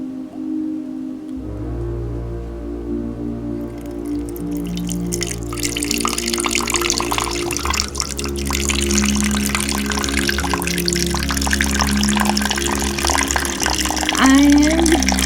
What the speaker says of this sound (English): I am pouring.